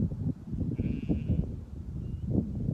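Sheep in a winter dairy flock waiting at a barn bleat a few times, one clear drawn-out bleat standing out over a busy low rumble of farm noise, with a fainter call following.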